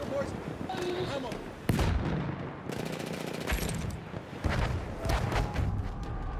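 Battlefield 1 combat with a grenade blast and gunfire: sharp bursts and a heavy boom stand out against continuous battle noise, with voices speaking over it.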